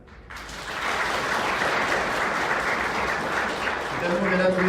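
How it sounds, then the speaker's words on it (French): An audience applauds at the opening ceremony of Nadeshicon, the clapping rising after a brief quiet start into a steady, dense roar, with a voice faintly over it near the end. "un bon bel applaudissement"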